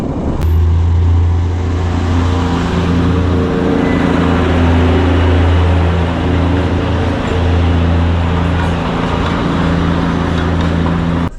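A car cruises on the Darjeeling to Mirik road, a steady engine drone with a strong low hum heard up close from inside the cabin, running evenly throughout with no voices.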